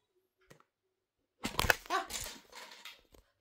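A dog settling down lets out a brief whimpering, snuffling vocal burst close by, after a near-silent stretch with one faint tap.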